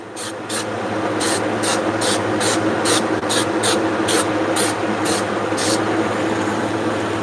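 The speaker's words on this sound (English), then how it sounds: "I just sprayed the back of this stencil here." Spray paint hisses onto the back of a graffiti stencil in repeated short bursts, about a dozen sharp sprays over a steady low background hum, close and loud.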